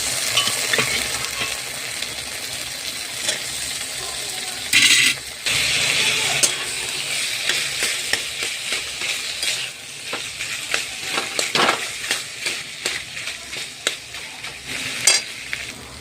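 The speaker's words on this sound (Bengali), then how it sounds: "এরপর আমি দিয়ে দিচ্ছি আলু।" Potatoes frying in oil in a pan for a flour-and-potato dish, a steady close sizzle broken by repeated scraping and clanking stirs that come thicker in the second half.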